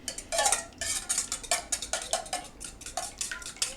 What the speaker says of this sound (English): what I'm doing is whisking these in